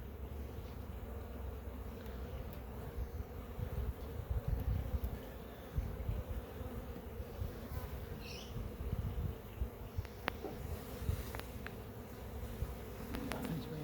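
Honey bees buzz in an opened beehive: a low, steady drone of many wings close by, with a few faint knocks and handling sounds.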